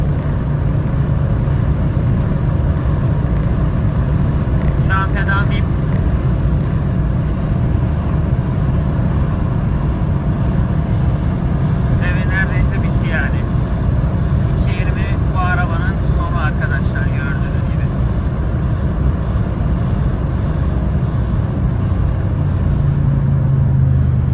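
A Citroen C-Elysee 1.6 HDi diesel with a tuned engine drones at high revs in fifth gear downhill, a loud constant engine roar heard from inside the cabin with brief clicks and rattles.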